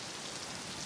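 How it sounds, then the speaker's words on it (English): Steady rain falling in Paris, a soft even hiss of drops spread across the whole clip with no voices, fairly faint and continuous. "now it's starting to rain."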